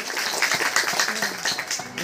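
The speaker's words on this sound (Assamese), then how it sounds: "এয়া সকলোৰে পৰা হাত চাপৰি" An audience claps together at a temple groundbreaking puja for installing a Ram idol, producing steady, dense applause of moderate loudness that lasts throughout.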